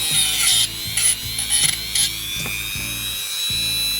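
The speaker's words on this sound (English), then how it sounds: "Alright, Dremel's warmed up." A Dremel rotary tool fitted with a wire brush whirs steadily while cleaning parts of a Regula 03 cuckoo clock movement, with repeated short scratchy bursts as the bristles touch metal.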